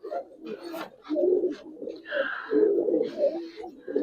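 Pigeons, including an orange-coloured Giribaz pair, coo in low throaty bursts while being handled, steady and close throughout, with soft rustling in between.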